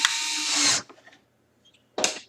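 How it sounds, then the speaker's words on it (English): A power tool tightens a nut on a BobsCNC Evolution 4 CNC gantry build: one close, loud whirring burst, a quiet pause, then a second short burst. "once I put the nut in, I'm going to go ahead and tighten it"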